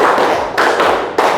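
Hand claps in a classroom clapping game for a counting pattern, sharp and close, a short burst of about three quick claps with no talking.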